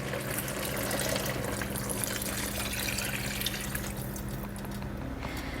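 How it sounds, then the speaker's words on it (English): Broth poured into a pot of dairy-free potato and leek soup, a steady liquid splashing and pouring wash that runs continuously and fairly close, thinning slightly near the end, with no talk. "Now I'm going to add the last 3 cups of broth to my soup."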